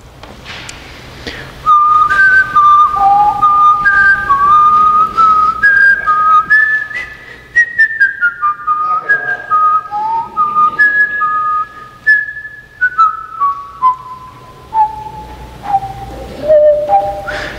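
A person whistles a bright melodic tune alone, clear and fairly loud, with separated phrases of held and sliding notes over about eighteen seconds.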